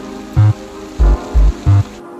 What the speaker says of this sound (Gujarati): ફાઇનલી વરસાદ આવી ગયો છે